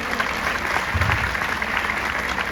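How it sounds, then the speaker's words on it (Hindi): Steady applause from an audience fills the whole stretch, a dense even patter of clapping with no pauses. "प्लीज आप उनके लिए ताली मार दो"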